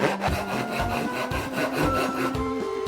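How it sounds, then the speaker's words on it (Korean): A hand saw cuts through wood in quick, rhythmic back-and-forth strokes, each pass a rasping scrape, close and fairly loud with no voices. "이번엔 톱으로 나무를"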